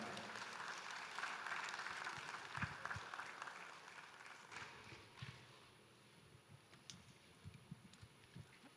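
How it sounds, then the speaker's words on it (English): Audience at a national sales leaders conference applauding to welcome a speaker, a faint, distant rattle of clapping that gradually thins out toward the end. "Please put your hands together."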